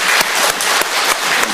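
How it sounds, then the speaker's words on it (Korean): A brief burst of warm applause from a church congregation for its choir at a year-end Sunday service. The sound is dense and lively, with a few sharper claps standing out near the microphone. "1년 전체를 한번 결산해서 뜨거운 박수를 한번 다시 보내드리겠습니다."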